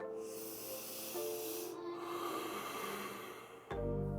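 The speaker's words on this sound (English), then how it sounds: "we're gonna start today in child's pose and take 5 deep breaths" Slow, deep breaths drawn in and let out while resting in yoga child's pose, soft and close against a quiet room, ending in a louder exhale.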